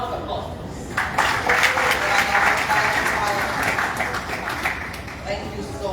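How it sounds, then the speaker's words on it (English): Audience applause at a foundation dedication ceremony, a steady round of clapping that builds after a second, holds for several seconds and then tapers off. "Round of applause."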